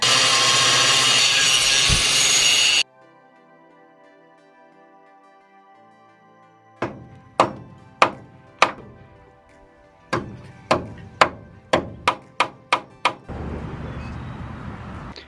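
An angle grinder with the grinding wheel that came with it cuts a Ford F150 shock tower in one loud rasping burst, then winds down with a fading whine, followed by a series of sharp metallic knocks.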